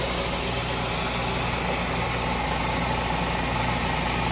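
A 1962 Triumph TR4 engine running steadily in fourth gear in direct drive with the overdrive off, a continuous loud, even drone with no talk over it.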